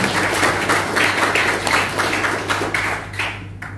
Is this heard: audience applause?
yes